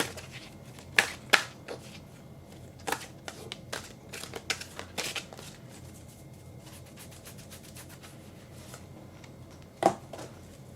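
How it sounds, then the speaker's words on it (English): Unicorn oracle cards are shuffled and riffled by hand in a quiet room, giving sharp, scattered flicks and slaps in irregular bursts, clustered early and then again near the end, close and fairly soft, with no talking over them. "we're going to throw some unicorn cards."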